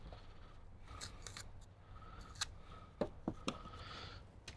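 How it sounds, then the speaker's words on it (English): Electrical tape being peeled and unwrapped off a wire fish while installing an amplifier in a Toyota Tundra, giving faint crinkles and three sharp ripping clicks near the end over a low steady hum. "So get that tape removed off of the wire fish."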